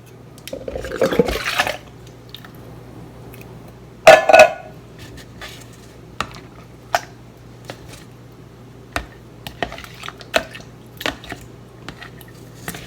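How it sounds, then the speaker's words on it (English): Full fat coconut milk being dumped into a container, then whisked for homemade ranch dressing: a wet splashing pour up front, a squishy clatter, then scattered faint taps and drips, close and with no talking. "I like to dump it out in a container where I can mix it up with a whisk"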